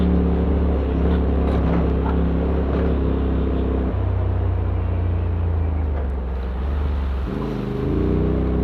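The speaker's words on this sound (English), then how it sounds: "this is a 2018 Polaris RZR XP Turbo" A 2018 Polaris RZR XP Turbo engine runs with a loud, steady low drone that holds even, dips briefly, then picks up again in pitch near the end, heard close with no talk.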